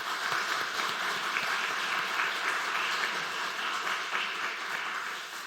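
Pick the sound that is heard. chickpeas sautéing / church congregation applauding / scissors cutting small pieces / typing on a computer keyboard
church congregation applauding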